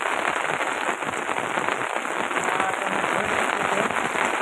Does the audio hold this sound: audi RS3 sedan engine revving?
no